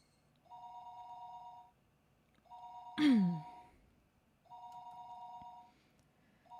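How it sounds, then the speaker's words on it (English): A telephone rings in the visual novel game Higurashi, three evenly spaced electronic ring bursts about two seconds apart, with a short descending sighing sound in between, clear and alone. "The phone suddenly rang."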